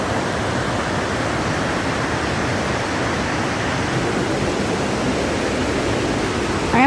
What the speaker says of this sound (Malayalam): അടിപൊളി വൈബ്, നല്ല വെള്ളച്ചാട്ടം,